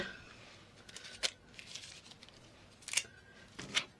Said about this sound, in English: we take a bit of sticky tape, we stick it on, and you rip